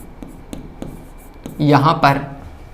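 A pen writes on a board or paper during a physics lesson on electric dipoles, with short scratchy strokes tapping at a steady pace before a voice speaks over it.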